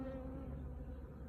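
A low, steady drone of swarming bees on a roof hums throughout, soft and continuous.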